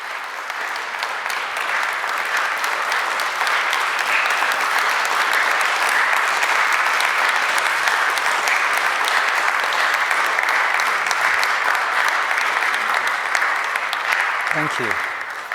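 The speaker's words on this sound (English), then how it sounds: "That applause means a lot to me because that song, as you could probably tell, does." Sustained audience applause fills a room after a song at a live album launch in Ealing, London, steady dense clapping for over a dozen seconds before tapering off.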